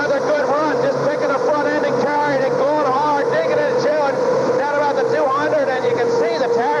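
A pulling tractor with a new engine roars continuously down the track at a 1985 indoor tractor pull, loud and sustained, with crowd noise and an announcer's commentary running over it.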